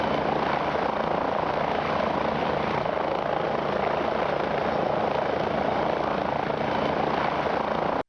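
Simulated helicopter in normal powered flight inside a motion-base research simulator, a steady, loud broadband rotor and turbine roar that continues unbroken, with no voices.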